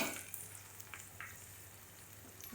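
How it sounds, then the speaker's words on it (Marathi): Chopped onion and green chili fry in oil in a pan for Marathi kanda poha, giving a faint, steady sizzle with a few soft crackles and light stirring clicks, close by and without talk. "कांदा मिरची आपले भाजून झाले"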